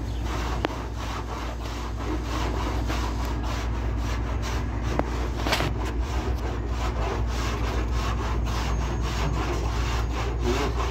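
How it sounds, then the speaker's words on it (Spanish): A surform rasp scrapes across car body filler on a 2007 Honda Civic in steady, continuous close strokes, a rough grinding rasp with a constant hum beneath it. "cuesta menos lijarlo cuando lo rayas con la quesera"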